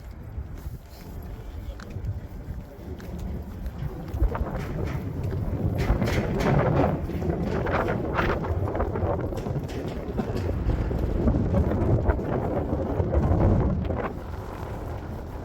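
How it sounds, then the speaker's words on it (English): Steady wind buffets the microphone in loud, rumbling gusts on a bridge in Newcastle, with a broad roar that swells and eases throughout and no voices standing out. "Windy on this bridge."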